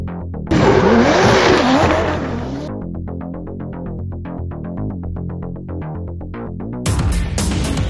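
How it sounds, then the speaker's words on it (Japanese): A Mazda RX-7 FD3S Type RZ sports car engine revs hard, then settles into a rhythmic, pulsing idle before revving sharply again near the end; close and loud. "今日のお車はマツダ RX7 FD3S のタイプ RZ です"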